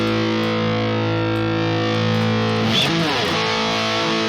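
A sustained distorted electric guitar chord through a Kemper profile of a 6150 amp rings out with a thin, mid-scooped tone, then a fresh strum cuts in near the end, loud and close.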